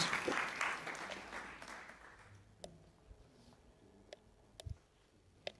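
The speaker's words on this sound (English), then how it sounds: "a big round of applause for MC" An audience at a youth finance forum gives a round of applause that starts full and loud, thins out over about two seconds, then trails into a few scattered, isolated claps in a quiet hall.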